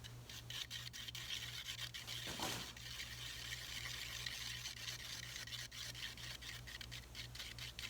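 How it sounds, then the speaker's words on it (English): Blue and yellow acrylic paint being stirred with a paintbrush handle, a continuous soft close rubbing and scraping with faint clicks, alone over a low hum. "I'm just going to scoop a little bit of my blue into my yellow, and I'm just going to start stirring that up."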